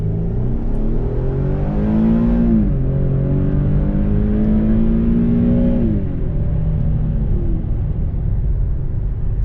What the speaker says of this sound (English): Naturally aspirated V6, 320 brake horsepower. It sounds very good.